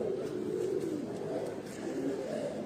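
Pigeons, low-flyer and high-flyer breeds, coo in a steady, soft, murmuring drone that runs throughout with no one speaking.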